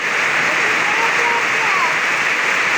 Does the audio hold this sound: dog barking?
no